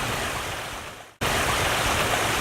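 Fast-flowing muddy creek water rushing steadily and loudly nearby, with a brief dip to near silence at the midpoint before the roar resumes.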